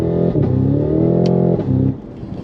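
Cadillac CT5-V Blackwing with its 668-horsepower engine revs loudly and steadily under acceleration, pitch holding then dipping with a brief shift break near the middle and a second drop toward the end, close and alone with no talk.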